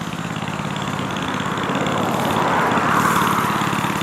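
Small engine of a homemade motorized scooter bogging down while riding on grass, a continuous buzzing drone that strains and rises slightly, heard from close by with no clear talking.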